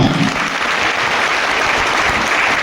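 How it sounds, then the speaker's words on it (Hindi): A business-presentation audience breaks into loud, sustained applause, a dense wash of clapping that holds steady throughout with no break. "तो हो जाए कृष्णदेव सर के नाम एक जोरदार तालियां।"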